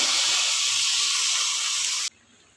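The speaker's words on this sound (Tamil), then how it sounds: "இது நல்லா கொதிக்குது வேகட்டும்" Steady, loud hiss of a pot of cashew curry boiling hard on the stove, a continuous bubbling rush that cuts off abruptly near the end, leaving quiet background.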